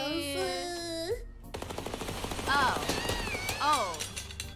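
Rapid bursts of gunfire in the video game Little Misfortune, a fast run of sharp shots over game music, with neighing, horse-like cries and a voice in the mix.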